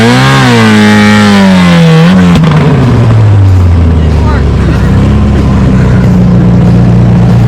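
A vehicle engine revs hard while the clutch burns during a rural backyard stunt, a loud roaring whine that climbs and then drops into a deep sustained drone, very close, with shouting voices over it.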